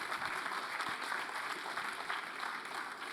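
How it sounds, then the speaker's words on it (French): Audience applause at the CFIA Rennes innovation awards ceremony, a faint, dense, even patter of many hands clapping from a crowd, steady throughout with no distinct voices. "Je pense qu'on peut encore les applaudir."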